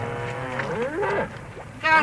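A farm cow lows in several drawn-out, wavering moos, loud and close, with a brief higher bleat-like call at the end and no talk over it.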